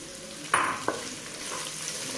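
Chopped small shallots hitting hot oil in a pan for Kerala chicken mappas curry, with two quick sizzle bursts and then a steady, moderate frying hiss.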